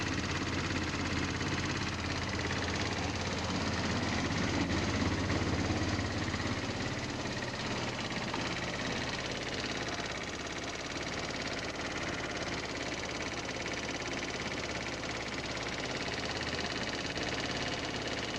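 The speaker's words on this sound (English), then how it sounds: "that rattling sound you hear does seem to be coming from the lower part of the motor" A GY6 scooter engine idles with a rattling noise from the lower part of the motor, a steady close mechanical drone with a dense, buzzy texture that runs without a break and with no talking.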